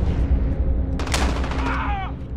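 Shotgun blasts in Call of Duty: Modern Warfare, a sharp burst of gunfire with a trailing metallic whine, loud and close over a constant game background.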